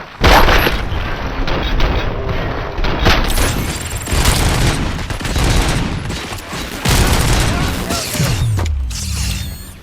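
Heavy gunfire in the video game RoboCop: Rogue City, loud bursts of rapid shots and booming impacts with mechanical clanks, dense and continuous across the scene.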